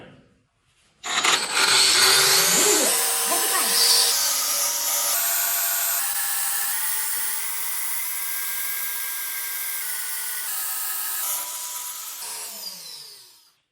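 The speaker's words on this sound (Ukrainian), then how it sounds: "Одну болгарочку нашу ложимо вертикально і вмикаємо." An angle grinder fitted with a metal cleaning disc, laid vertically, spins up with a sharp whine and runs steadily at high pitch for about ten seconds before winding down.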